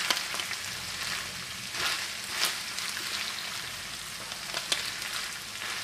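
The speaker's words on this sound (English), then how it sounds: "Now we saute all of this for about 10 minutes or so." Vegetables for a lasagna sauce sauté in a hot pan on a home stove, giving a steady crackling sizzle with small pops and brief louder bursts throughout, close and continuous, with no talking.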